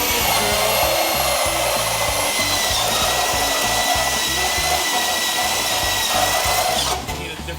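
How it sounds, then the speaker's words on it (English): Power drill boring pilot holes during a 1966 Chevy Nova race car build, a loud continuous whine with pulsing bursts of motor load, running alone until it tapers off near the end. "the drill bit kept slipping and pushing into it"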